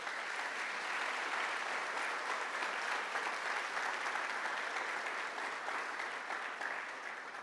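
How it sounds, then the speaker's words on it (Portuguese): A church congregation gives sustained applause, a steady, even wash of many clapping hands that stays moderately loud from start to finish. "isso dá um aplauso lindo para Ele"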